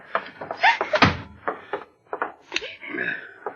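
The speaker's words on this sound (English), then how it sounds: "All right, get the door." A door thuds shut in an old radio drama, one solid close knock among bursts of talk and other handling noises.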